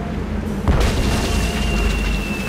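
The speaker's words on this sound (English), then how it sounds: "It's one of those spiffy new Hungarian easy-action cannons I've been begging Elaine to let me buy." A cannon fires a cannonball in the pirate adventure game Tales of Monkey Island: a sudden heavy boom, then a sustained rumbling roar over constant game background sound, with no talk.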